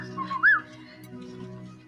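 A person whistles in imitation of birdsong, a short rising chirp with a bright warble that stands out against a quiet background hum.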